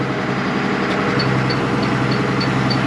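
Tractor engine of a 108 PTO horsepower 2090 running steadily at about 1300 RPM to power a Cloverdale 500T vertical TMR feed mixer, a loud continuous drone with faint periodic clicks.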